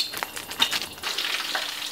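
Thai fish cakes (tod mun pla) frying in hot oil give off a busy, steady sizzle with scattered crackles and pops, fairly close, with no voices.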